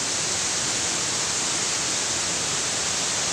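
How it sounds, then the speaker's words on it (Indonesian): Tandula Jangga waterfall in East Sumba, a dense, steady broadband roar of falling water, loud and unchanging throughout with no voices. "seperti inilah air terjunnya, air terjun Tandulan Jangga."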